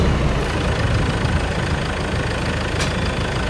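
A tractor engine idles steadily behind a large vehicle, a continuous low rumble with a faint knocking texture, close and even throughout with no talk.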